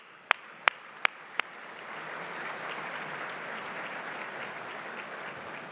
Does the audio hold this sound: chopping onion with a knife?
no